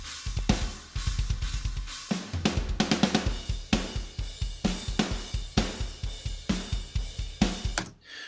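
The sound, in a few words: unprocessed drum mix with triggered kick, snare and toms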